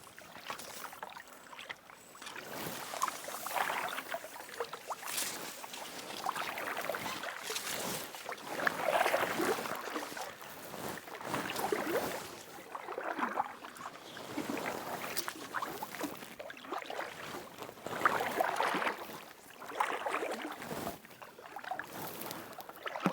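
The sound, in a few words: kayak paddling on a pond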